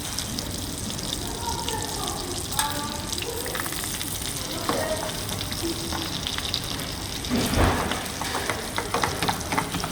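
White meat sears with a knob of butter in a hot pan, a steady, fairly quiet sizzle and crackle running throughout with a brief louder burst of spitting near the end.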